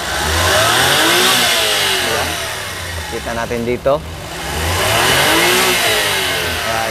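Engine of a Mazda Scrum Wagon with a turbo is revved up from a steady idle in a couple of swelling bursts, with quick throttle blips in between, while someone talks over it.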